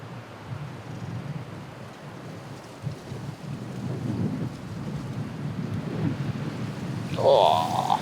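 Strong wind gusting across choppy water on a winter carp fishing session at a match lake, a steady broadband roar rising and falling in waves with a louder gust near the end.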